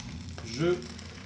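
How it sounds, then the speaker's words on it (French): Food sizzles steadily in a hot pan on a stove, a brief, close crackling frying sound with a slight swell partway through. "donc on peut constater que ça grésille."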